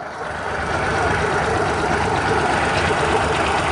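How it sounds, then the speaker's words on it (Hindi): A used car's engine idles close by just after starting, a steady low rumble with a slight rise at the start, running alone without talk. "ये आप देख सकते हैं हमने गाड़ी को स्टार्ट कर लिया है"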